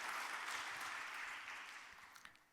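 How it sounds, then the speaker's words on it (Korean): A church congregation claps during a Sunday worship service, a dense, steady applause that starts full and gradually thins and fades toward the end, with no voices over it. "박수로 격려해 주시기 바랍니다."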